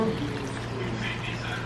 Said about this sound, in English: Now I cut up the rest of all the limes, and I'm just going to pour half of it